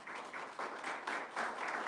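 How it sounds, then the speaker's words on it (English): A small audience at a live show in Washington, Missouri claps warmly in an even, continuous burst of applause, fairly close and without voices. "So let's give him a round of applause"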